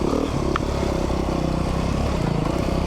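A 2019 Beta 390 RR Race Edition dirt bike runs steadily at a low, even engine drone, close and loud, with faint clattering over the engine noise.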